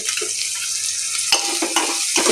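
Masala rice with biryani masala and spices being stirred in a pan, giving a soft scraping sizzle with a few louder stir strokes and clinks near the end, close and with no talk.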